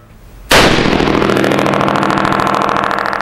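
A single .308 rifle shot fired through a Precision Armament M11 Severe Duty muzzle brake at an outdoor range: one sharp, very loud crack, then a long rolling echo that stays strong for nearly three seconds.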